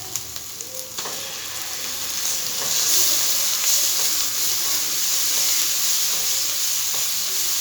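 Paste made from pointed gourd seeds fries in a pan with a steady hiss. The sizzle grows louder after the first seconds, and a few light clicks from stirring come through.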